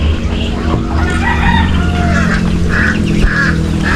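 Ducks and chickens in a small backyard farm, including Rhode Island hens, a loud continuous chorus of quacking, clucking and a rooster's crow, close and dense throughout.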